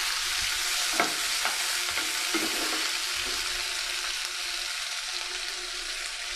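Onions fry in hot oil with a steady, dense sizzle close by, interrupted by a few soft stirring knocks early on, and no voices.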